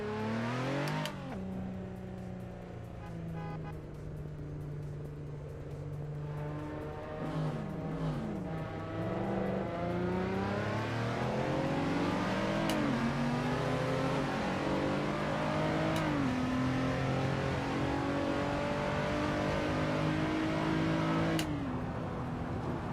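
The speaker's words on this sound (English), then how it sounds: "I like the sound of this car." A Ferrari 488 GTE race car engine in iRacing at Sebring revs and climbs through rising, falling pitches for the whole stretch, loud and steady with a synthetic, game-like tone and no talking.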